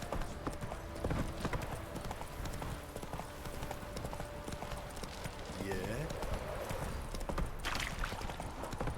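Roach, a horse in The Witcher 3 video game, clip-clops with steady hoofbeats beneath continuous game ambience and spoken dialogue.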